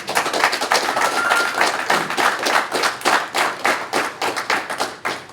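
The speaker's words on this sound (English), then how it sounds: "I would hope that you would give the room a round of applause" A room of people at a fire service graduation ceremony breaks into applause: loud, dense, close-up clapping that goes on for over five seconds with a slightly pulsing rhythm.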